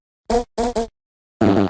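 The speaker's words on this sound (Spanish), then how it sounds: "¿Quieres escuchar pedos cada vez que escribes?" Cartoonish fart sound effects from an Opera GX browser mod that plays one with each keystroke: two short bursts, then a longer, deeper, buzzier blast after a pause, loud and close with no talking.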